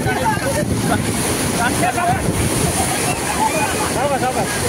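Loud, continuous wash of sea waves churning into a house yard in a coastal village at Dapoli, with wind buffeting and voices talking faintly underneath.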